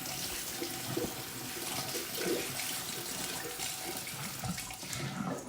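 Running tap water pours steadily over raw nuts with their skins on as they are rinsed in a kitchen sink, a continuous close splashing hiss with small irregular surges and no talk.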